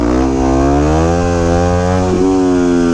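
A 2009 Yamaha WR250X supermoto's single-cylinder engine buzzes loud and close during a wheelie, holding a steady high-revving drone with a brief dip and pickup in pitch near the end.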